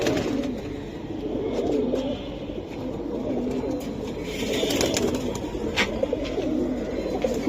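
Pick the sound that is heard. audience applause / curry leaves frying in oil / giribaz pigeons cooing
giribaz pigeons cooing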